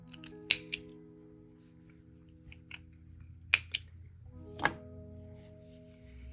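Scissors snipping through wool yarn while making a small woolen flower charm, with three sets of sharp double snips spaced a few seconds apart, close and crisp in a quiet room.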